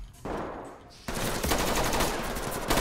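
Video game gunfire, a short burst starting early, then sustained rapid automatic fire that rattles on loudly and continuously to the end.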